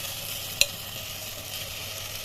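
Ground tomato paste sautés in a pan for shark fish curry, a soft continuous sizzle with one sharp clink of a utensil early on, no talking.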